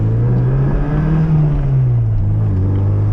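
A VW MK3 Golf with a new cam and stage 2 tune revs hard, its loud, steady engine drone swelling in pitch and then easing back, close by with no talk.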